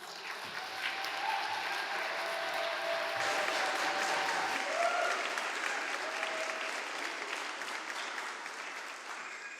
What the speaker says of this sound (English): I was not expecting a round of applause, but I'll take it.